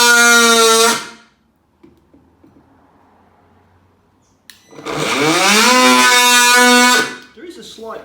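A Ryobi multitool cuts into wood at speed setting 6, giving two loud, high-pitched buzzing whines with a rising pitch sweep, separated by a quiet pause of faint scraping.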